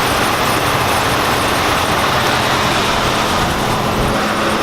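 A 5.7 Hemi engine runs steadily at close range, a loud, even rumble with a broad hiss and no voices.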